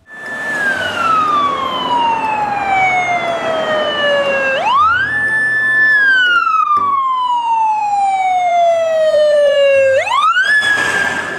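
A loud, close electronic siren from a toy ambulance wails in long falling sweeps that jump back up and repeat, steady and continuous with no talking.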